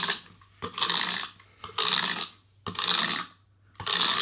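A Disney Store George New-Win toy car from Disney Cars is revved four times in a row, each a close, loud whirring burst of about a second from its friction motor, with short quiet gaps between.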